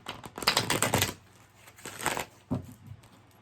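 Quick papery riffling bursts of cards being shuffled, a louder flurry early on, then softer shuffles and a couple of light taps, with no talking.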